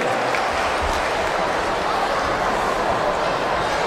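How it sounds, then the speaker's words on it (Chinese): Continuous dense applause from a crowd at a breakdance battle semifinal, steady and loud for the whole stretch. "热烈的掌声送给他们"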